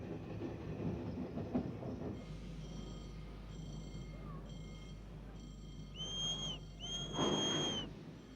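Train on a railway line in Portugal rumbling steadily with a low hum, a couple of high whistle-like tones rising near the end, under faint background voices.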